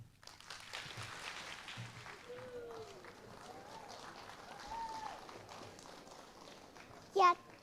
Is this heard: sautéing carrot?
no